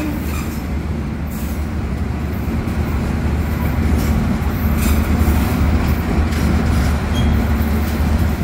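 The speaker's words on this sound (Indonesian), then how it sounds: "kereta api Logawa tiba di stasiun Tanggul" Logawa economy passenger train pulling into Tanggul station, a loud close rumble of wheels and carriages with a steady low drone and faint rail squeal throughout.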